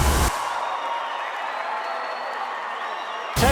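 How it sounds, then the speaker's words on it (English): A racetrack crowd at the TVG Pacific Classic roars for Flightline, a sustained, moderately loud wash of cheering that swells at the edges and stays steady throughout, with a voice faintly present. "And there's the roar from the crowd."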